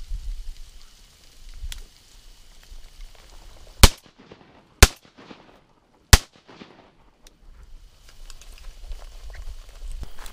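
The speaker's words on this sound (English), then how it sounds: "I just had my best shot of the day and I absolutely blew it" Three loud, sharp shotgun blasts, evenly spaced about a second apart, ring out close by during a solo duck hunt in open marsh, with a soft, steady outdoor hiss filling the background before and after.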